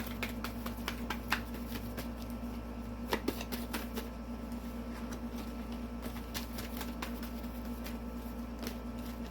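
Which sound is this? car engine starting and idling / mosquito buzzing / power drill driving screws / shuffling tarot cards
shuffling tarot cards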